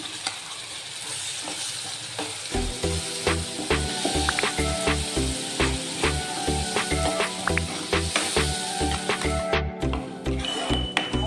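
Ground masala paste for an egg masala curry frying in a pan with salt, tomato and onion: a steady loud sizzle with repeated stirring scrapes and rhythmic clanks throughout, no voices.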